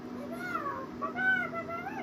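Young cat meowing in a warm indoor spot on a farm raising a purebred Shorthorn bull calf, giving two or three close, wavering meows in quick succession, heard alone.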